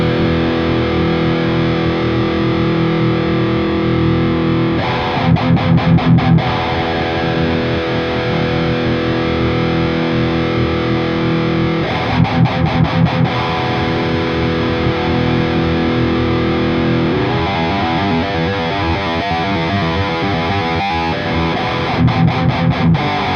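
A heavily distorted electric guitar plays through a cap-edge speaker impulse response in a custom IR. Thick, saturated chords and riffs run continuously and loudly, with short chugging palm-muted bursts, and no voices.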